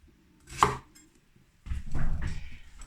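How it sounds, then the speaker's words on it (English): A knife cuts the ends off an aubergine on a board, one sharp cut near the start and then a longer run of clattering cutting noises, close and fairly quiet, with no talking. "So you want to cut the ends off."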